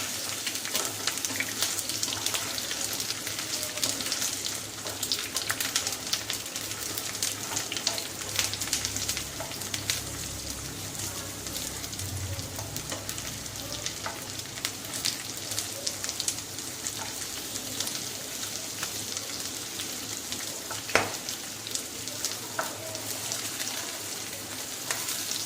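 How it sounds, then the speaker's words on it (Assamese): Cut pointed gourd (potol) fries in mustard oil in a pan, giving a continuous, fairly loud sizzle and crackle with scattered pops and occasional stirring knocks. "ধুনীয়াকৈ ভাজিব লাগিব যাতে ইয়াতে আধা সিজি যায় পটলখিনি"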